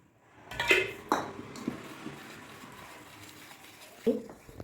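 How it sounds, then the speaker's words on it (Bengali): A spoon clinks and scrapes against a bowl while milk is stirred into patishapta batter, with a few sharp knocks over a quieter swirling sound. "বন্ধুরা আমি এইভাবে আস্তে আস্তে করে মেশাচ্ছি দুধ অল্প অল্প করে"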